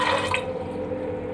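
Water is poured from above into a pressure cooker holding chickpeas, making a close, steady splashing and filling sound that settles into a softer trickle.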